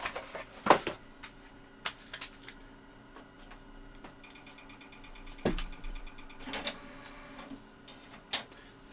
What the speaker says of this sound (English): CD drive keeps making a bit of a strange clicking noise